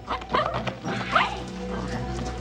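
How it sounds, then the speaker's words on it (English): A dog barks a few times in a home setting, the short barks fairly close and mixed with background noise and faint talk. "You're a good dog."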